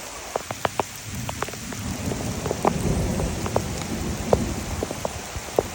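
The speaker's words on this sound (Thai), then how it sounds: "ตอนนี้ฝนตกหนักมาก หนักแบบหนักแรง" Heavy rain pours outdoors beside a creek where a tree stump has drifted ashore, a steady dense wash broken by sharp, close drops striking a nearby surface, with no voices.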